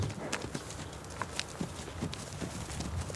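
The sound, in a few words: Camargue horse hooves clip-clopping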